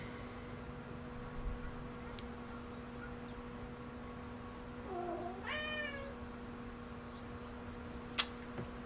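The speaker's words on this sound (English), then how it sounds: "That's my cat." A house cat gives a single clear meow midway through, fairly close, over a steady low electrical hum and quiet background hiss, with a couple of faint clicks.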